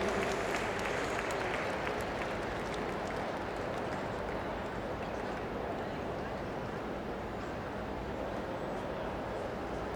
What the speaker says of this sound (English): let's give Caroline and Thunder a big round of applause as they leave the ring